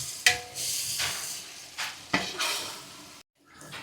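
A spoon stirs tomato masala with freshly added ginger garlic paste in a hot pan, producing close, steady sizzling with several scraping sweeps and clinks against the metal before a brief pause near the end.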